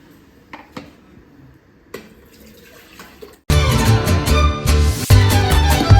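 Water being poured into a fish curry in a pot, starting with faint clinks and drips, then a sudden loud, continuous gushing pour for the last few seconds, close by, with no talking.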